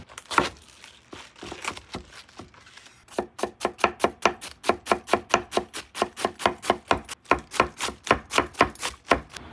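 A handmade kitchen knife chops rapidly on a board, sharp rhythmic strikes, a few slow cuts then a long fast even series, close and clear with no talking.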